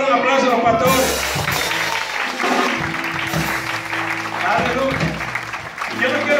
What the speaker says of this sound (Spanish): Vamos a darle un aplauso a los pastores.